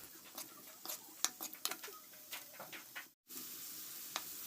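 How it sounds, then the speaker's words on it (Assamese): Fish frying with spices in a pan for a pea and fish curry, a quiet steady sizzle with scattered crackling pops and spits close by, no talk. "মাছখিনিও কচুৱাই ল'ম মছলাৰ লগত।"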